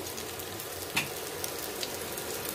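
Steady sizzle of beef kebabs frying in a pan, a soft continuous crackle with a brief clink near the start, no voices.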